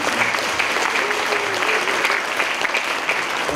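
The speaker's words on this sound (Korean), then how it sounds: "여러분 박수를 또 한번 부탁드립니다." Sustained audience applause fills a public deliberation forum on whether a Starfield shopping mall should open in Changwon, a steady dense wash of many hands clapping at even loudness throughout.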